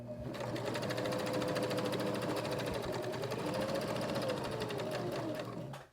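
A sewing machine runs steadily while stitching around the lining of a fabric tote bag, giving a close, continuous rapid whirring hum for several seconds with no talking.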